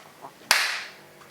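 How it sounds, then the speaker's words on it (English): A single sharp hand clap rings out once, close and loud, marking the start of an interview recording, followed by a brief decaying room tail and quiet. "I'm just going to give us a clap first."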